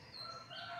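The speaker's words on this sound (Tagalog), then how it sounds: "Huni ng ibon ang iyong maririnig." Birds chirp in a very quiet outdoor spot at night near a large mango tree, thin high tweets and whistles, faint and brief with no talking.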